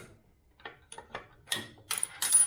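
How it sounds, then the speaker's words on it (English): A nut is backed off a drill fixture, giving a handful of short metallic clicks and ratcheting scrapes that build louder toward the end, close and alone in a quiet room. "now that it's down, you just back the nut off"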